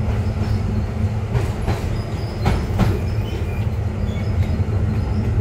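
The oldest tram in Sofia, heard from inside the car, gives a loud, steady rumble with rhythmic wheel clicks and a few rattling knocks throughout, with no voices.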